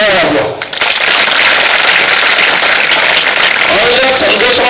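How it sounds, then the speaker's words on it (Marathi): Lecture audience applauds the invited guests with a dense, continuous wash of clapping that swells quickly after a brief dip and stays loud to the end. "जर पोहोचत असेल तर आधी या पाहुण्यांसाठी टाळ्या वाजवा"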